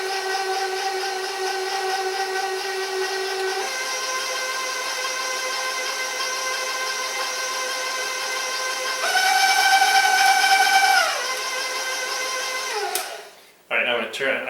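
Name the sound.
electric mixer mixing coffee cake batter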